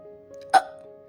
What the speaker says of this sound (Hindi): तभी उसे अचानक से हिचकी आने लगती है